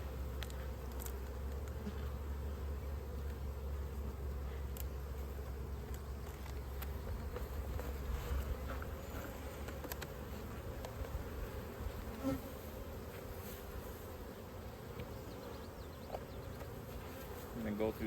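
Honey bees hum in a steady, dense buzz around an opened hive box, close and continuous, with individual bees zipping past now and then.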